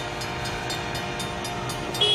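A train rolls past a rail crossing with a steady loud rumble and regular clicking bursts, and a horn sounds faintly near the end.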